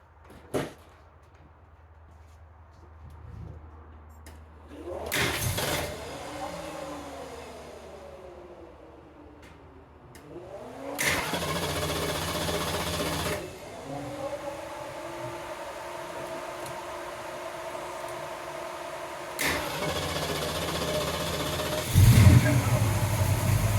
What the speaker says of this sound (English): The engine's still warm, so it should be okay.